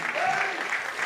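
Football fans at Jenner Park Stadium in South Wales give a steady round of applause, a dense, even patter of clapping from the crowd for a substituted Barry Town United player.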